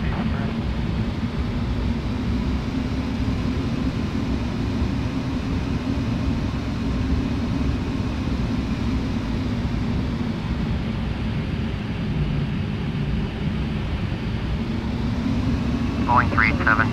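A simulated Boeing 737 takes off from Lanseria in Flight Simulator X, with a steady, loud broadband engine roar throughout and radio voices talking over it.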